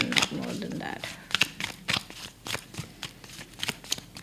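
Tarot cards are shuffled and drawn in a Hindi reading, with repeated soft, crisp riffling and flicking bursts at an uneven pace, close and fairly quiet, with a person talking over them at the start.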